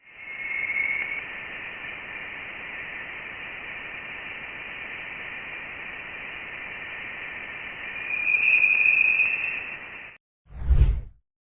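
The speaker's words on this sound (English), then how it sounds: "it's picked up a low, constant hum coming from the space between stars" Sonified interstellar plasma picked up by Voyager 1 beyond the solar system: a steady, constant hissing hum that swells slightly near the end, then cuts off before a short low thud.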